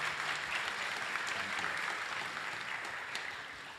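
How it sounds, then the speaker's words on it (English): Sustained audience applause at a hackers' conference opening session in Europe, a dense wash of many hands clapping that fades slightly toward the end. "One more round of applause for the team."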